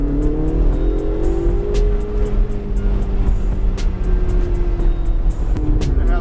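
A Ferrari race car accelerates along a track, its loud engine holding a steady, slowly rising drone from inside the car, with a brief pitch shift near the end.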